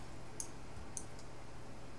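Two or three soft, sharp mouse clicks spaced about half a second apart while objects are dragged in Inkscape, quiet and close against faint room hiss.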